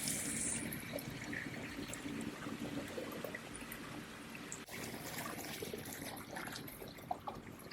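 Clear water from a newly drilled village borehole pours steadily into a river in Méailles, making a continuous close rushing and trickling wash with no talk.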